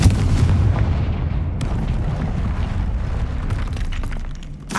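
Repeated Confringo blasting-curse explosions from the Hogwarts Legacy video game, a dense run of heavy booming blasts with low rumble carrying straight through, loud and close, with a sharp crack near the middle.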